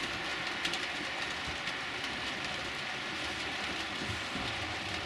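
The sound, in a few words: model railway Deltic locomotive sound effect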